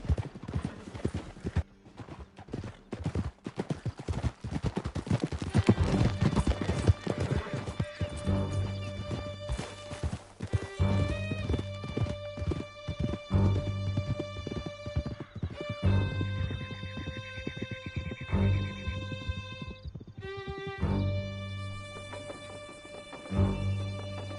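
Horses gallop through a canyon in Red Dead Redemption 2, with rapid hoof clatter and neighing along with crashes and a musical score, loud and busy throughout.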